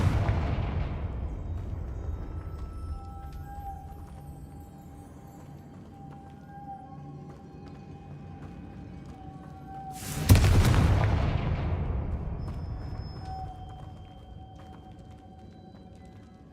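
A Confringo fire spell going off in Hogwarts Legacy as a deep booming explosion, with one blast at the start and a second large burst about two-thirds through, each trailing off into a rumbling decay.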